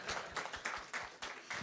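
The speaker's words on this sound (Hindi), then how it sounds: "NPCI के ताली बजाएं, उन्होंने पैसे दिए." An audience claps for the NPCI team at a physical masterclass, quick, uneven bursts of applause from a crowd, faint and somewhat distant.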